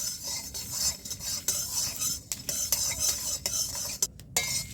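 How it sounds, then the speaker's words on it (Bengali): Whole cumin and coriander seeds dry-frying lightly in a pan for a pumpkin ghonto, with soft sizzling under repeated scraping and clinks of a spoon stirring against metal, close and steady throughout. "সব উপকরণগুলো আমি হালকা করে ভেজে নিচ্ছি।"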